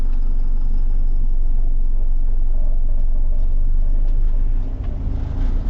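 A car engine idles steadily after being started early in the morning, a loud, close, continuous low rumble that dips slightly near the end, with no voices.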